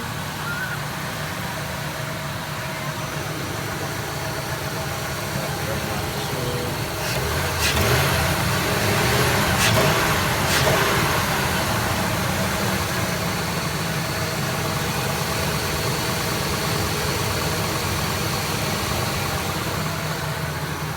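A 1999 Ford F150 engine, just back together after EGR cleaning, runs at a steady idle throughout, with a few sharp clicks partway through and no voices.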